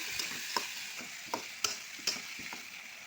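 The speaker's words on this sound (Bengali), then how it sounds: "ভালো করে উল্টে পাল্টে দিব।" Fish frying in a pan with bitter gourd and potato as it is stirred, giving a steady soft sizzle broken by a few sharp scraping clicks of the spatula.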